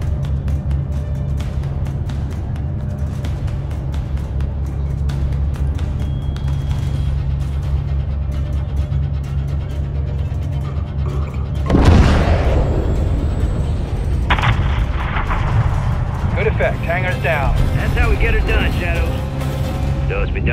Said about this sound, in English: have your man drop a missile on that hangar